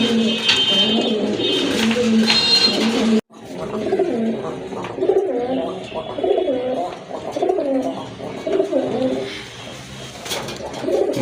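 A pair of coffee-coloured Rajgolla pigeons coo close by in loud, continuous rolling warbles, one call overlapping the next, with a brief drop near the start.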